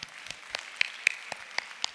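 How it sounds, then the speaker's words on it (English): Audience applause at a panel session of an annual conference, a few sharp claps standing out over a soft, steady patter of clapping that runs through the moment, with no talk. "Let me give her a round of applause."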